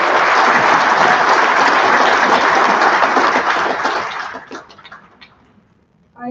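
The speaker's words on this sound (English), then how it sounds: "Please give them a round of applause." An audience at an academic awards ceremony claps loudly and steadily for several seconds, then the applause thins to a few scattered claps and fades out.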